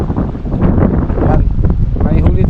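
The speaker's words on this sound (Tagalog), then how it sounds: "Lakas ng hangin" Strong gusting wind roars across the microphone, loud and continuous, with a faint voice mixed into the buffeting.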